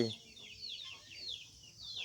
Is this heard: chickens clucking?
yes